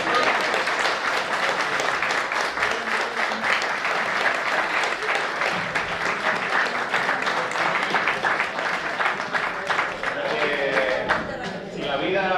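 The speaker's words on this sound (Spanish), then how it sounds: "un fuerte aplauso para Paula Salvador" A loud, dense burst of audience applause for a woman at an event, many hands clapping steadily and close for the whole stretch, with a faint crowd murmur underneath.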